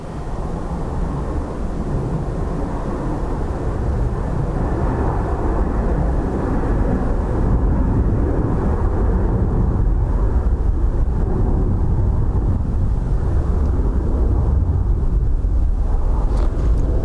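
A Ryanair passenger jet arriving at Dublin Airport from Alicante on a windy day gives a steady, loud broadband engine roar that holds for about seventeen seconds, with wind buffeting the microphone throughout.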